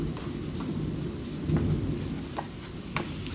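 A thunderstorm brings continuous rain hiss with a rolling rumble of thunder rising midway, plus scattered drips and patters close by.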